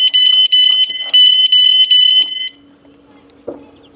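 A motorhome's alarm is being set, giving a loud electronic beeping in rapid pulses, a longer steady tone, then a brief click and a small thud as it falls quiet.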